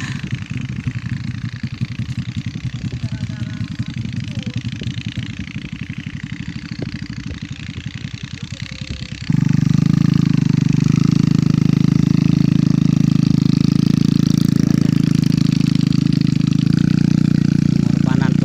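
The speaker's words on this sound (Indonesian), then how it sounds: "sekarang udah pakai motor ojek ini" A motorcycle taxi carrying sacks of unhusked rice idles with a rough putter, then revs to a louder steady drone partway through; people talk faintly beneath it.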